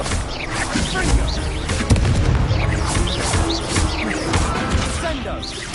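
In a Harry Potter video game, a Confringo fire-blasting spell is cast, with booming, crackling blasts in dense, noisy game audio over a few seconds.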